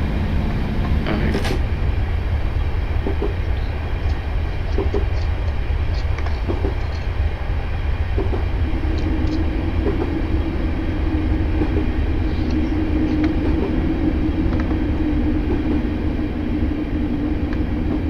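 Train running in a train simulator video game on a Scottish route, a loud steady rumbling engine drone with rail clatter and a rising hum, continuous throughout.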